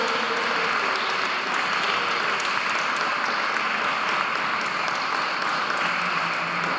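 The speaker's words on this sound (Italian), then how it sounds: "Facciamo un applauso." An audience at a mosaic blessing ceremony applauds, a dense, steady wash of many hands clapping that holds at an even level from start to finish with no voices over it.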